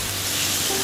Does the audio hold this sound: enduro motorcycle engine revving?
no